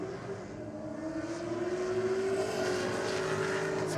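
Holden Commodore drag cars, a High Comp VF Calais with 850 horsepower beside a VN, launching down the Aeroflow strip; a sustained distant engine roar that swells and holds steady with rising pitch, no voices over it.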